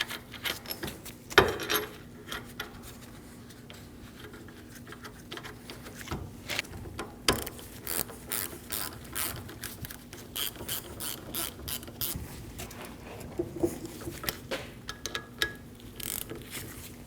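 A ratchet snugs the wheel bearing bolts on a 2012-2022 Volkswagen Passat front steering knuckle, giving long runs of rapid close clicking in short strokes over a faint steady hum.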